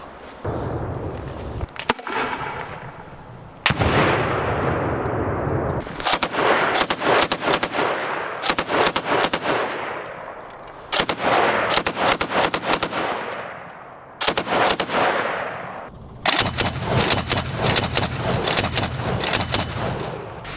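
A PKM Kalashnikov machine gun firing 7.62x51 rounds outdoors: loud, close bursts of rapid automatic fire, several separate strings of shots of varying length broken by short pauses, the last burst long and steady.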